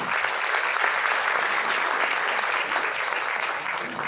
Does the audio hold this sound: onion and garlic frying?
no